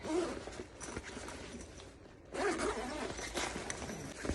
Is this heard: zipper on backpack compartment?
yes